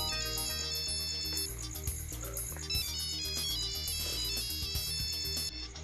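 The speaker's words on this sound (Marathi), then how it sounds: "भलता वेळेला फोन" Inside a household in a TV serial, a phone ringtone plays continuously as a loud, busy electronic melody with a repeating bass pulse and high chiming notes.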